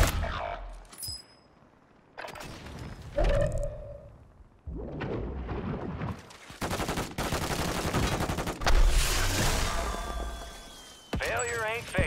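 Gunfire in a Call of Duty video game: bursts of rapid shots crackle between stretches of game sound, with in-game voices talking over parts of it.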